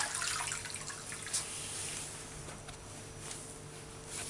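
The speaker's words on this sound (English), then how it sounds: "take your big sponge. Get some of that water out of there." A big sponge presses water out of a freshly made sheet of handmade paper, giving a faint, steady watery hiss and trickle with soft squelching throughout.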